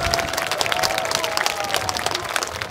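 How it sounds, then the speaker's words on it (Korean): Audience applause welcoming a navy military band on stage at an outdoor maritime festival in Pyeongtaek, a steady dense wash of clapping with scattered cheers throughout, with no speech. "많은 박수로 환영해 주시기 바랍니다."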